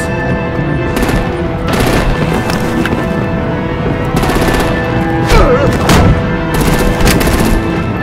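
Bursts of artillery gunfire in Batman: The Enemy Within, repeated volleys of loud booming shots recurring across the scene amid a busy battle soundscape with a voice heard briefly.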